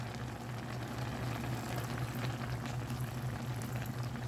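Squid simmering in coconut milk in a pan as vinegar is added, a steady low bubbling and liquid sizzle that stays quiet and even throughout.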